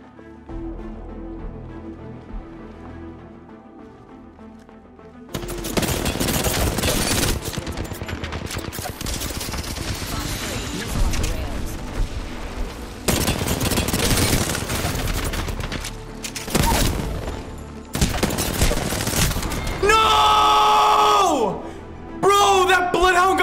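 Rapid automatic gunfire and missile blasts from an Apex Legends match with Valkyrie and Bloodhound roll out in loud, dense bursts with short pauses between them. A player talks over the shooting.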